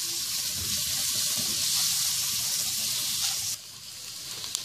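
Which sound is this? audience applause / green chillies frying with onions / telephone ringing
green chillies frying with onions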